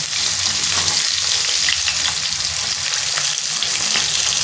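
Rohu fish frying in a hot pan gives a steady, loud, crackling sizzle that continues without a break, with no voices.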